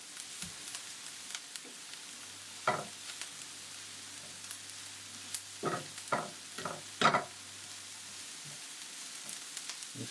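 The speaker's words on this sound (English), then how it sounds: "we're going to stir this around just a little bit." Pineapple chicken is stirred in a pan, with a soft, steady sizzle running throughout and several quiet scrapes and taps of a utensil, clustered in the middle and heard alone without talk.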